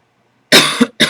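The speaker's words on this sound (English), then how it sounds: "That's why I'm coughing." A woman's sharp coughing, two close harsh bursts, the first longer and rougher, the second short, following a moment of silence, loud and near.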